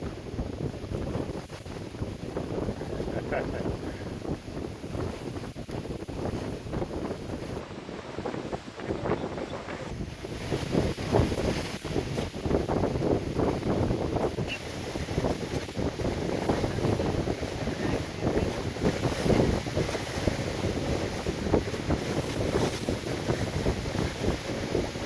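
A Wharram open-deck catamaran sails in the Exumas under a steady rush of wind and water, with broadband blustery noise buffeting the microphone and no talk.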